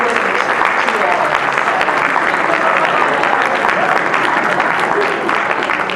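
An audience applauds a school principal at a high school welcome event, steady dense clapping filling the whole stretch at full loudness with no break.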